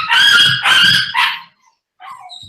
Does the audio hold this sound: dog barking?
yes